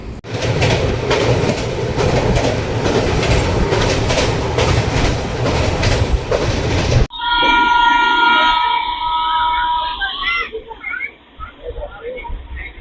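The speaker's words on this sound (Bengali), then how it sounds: "অবশেষে পাকা চব্বিশ ঘন্টা পর আমাদের ট্রেন হাওড়া এসে এখনও থামেনি" A passenger train pulls into Howrah station after a long journey from Delhi, with loud, dense rolling rumble and rail noise for about seven seconds, then quieter tonal squeals and clanks as it slows toward the platform.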